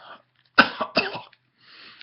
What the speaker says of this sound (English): Excuse the random coughing